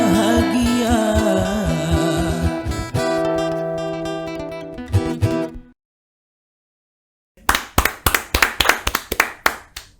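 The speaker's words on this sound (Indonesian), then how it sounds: "Kita aplaus kepada kawan-kawan atas opening podcastnya, luar biasa" Applause for the opening of a first company podcast: after a few seconds of music and a brief silence, a burst of clapping from a small group follows, close and fairly loud, with rapid uneven claps.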